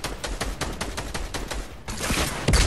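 Rapid bursts of gunfire in a shooter video game crack out in a quick repeating rhythm, pause briefly, then return louder with heavier blasts near the end.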